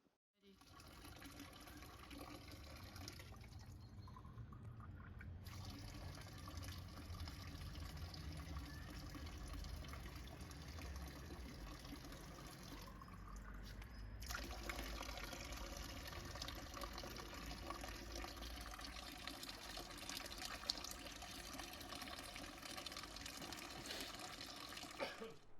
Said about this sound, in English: Looking to the right of the tower, we see an old public water fountain.